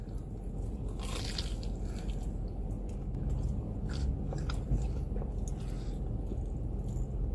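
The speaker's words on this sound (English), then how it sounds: "It's super crunchy, and it's absolutely filled with mozzarella" A crunchy, deep-fried rice dog filled with mozzarella being bitten into, giving close, crisp crackling bites and chewing over a steady low background hum, with no talking.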